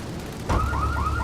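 A car alarm in the video game GTA III kicks in abruptly and starts its repeating rising electronic whoop, loud and close, over low engine rumble.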